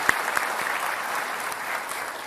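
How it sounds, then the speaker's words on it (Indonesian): A studio audience at a televised Jakarta gubernatorial candidates' debate on Mata Najwa breaks into continuous, even applause, with a few sharper claps standing out near the start. "mempersilahkan tepuk tangan kepada kedua kandidat"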